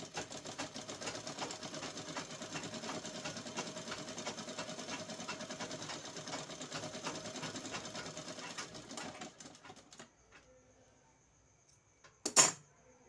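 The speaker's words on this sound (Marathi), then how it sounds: "आणि शिलाई मारून घ्यायची आहे." A sewing machine stitches a blouse cup with a steady, quiet mechanical whir for about nine seconds. It stops, a near-silent pause follows, and a brief sharp clack comes near the end.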